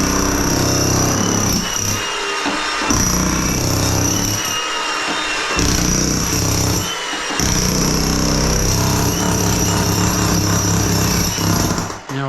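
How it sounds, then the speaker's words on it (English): A jackhammer breaking up a floor's poor-quality sand-cement screed, loud and close, pounding in long continuous bursts with a few short pauses between runs. "I'm just going to jackhammer up this whole floor"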